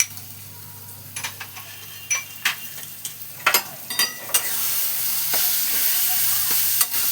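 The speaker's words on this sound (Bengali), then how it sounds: "এবার আমি এটাকে নাড়াচাড়া করে ভাজা ভাজা হবে" Papaya and chana dal stir-fry in a pan, first with a series of sharp scraping stirs and ticks over a low sizzle, then a louder, steady frying hiss that takes over near the end, close and without speech.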